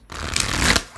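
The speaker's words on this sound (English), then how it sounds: "I'm going to shuffle and we will move on to Virgo." Tarot cards are shuffled in a steady, close riffling rush lasting about a second, with no talking over it.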